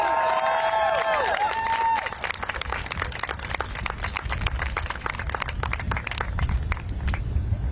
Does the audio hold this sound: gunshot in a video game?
no